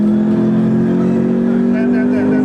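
Car engine accelerating in a driving video game, a loud steady tonal engine hum that rises slightly in pitch over a couple of seconds.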